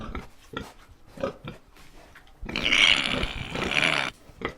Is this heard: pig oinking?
yes